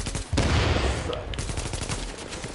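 Rapid SMG gunfire in The Division, with a dense burst of overlapping shots mixed with other game combat noise, loud and close throughout.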